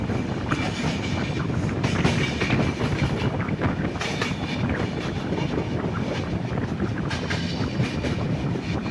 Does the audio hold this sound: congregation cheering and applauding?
no